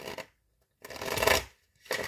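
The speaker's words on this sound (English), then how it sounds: "I am going to shuffle." Tarot cards being shuffled by hand in two short bursts, a soft papery riffle with a pause between, heard close and alone.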